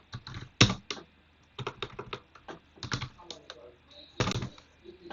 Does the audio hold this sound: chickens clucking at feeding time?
no